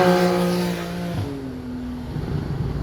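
Porsche flat-six engine revving at a car meet in Lohéac, a loud rasping note with rising and falling harmonics, dipping and then steadying before rough rumble takes over near the end.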